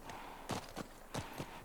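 A horse walks in The Last of Us Part 2, its hooves giving a few sharp, evenly spaced clip-clops at close range over a low, steady background.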